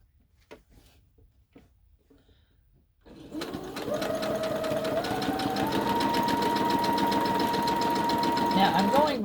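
A sewing machine starts up after a quiet pause full of small handling clicks, then stitches fabric in a steady, close, mechanical whir. Its pitch climbs slightly as it speeds up and it runs without stopping to the end.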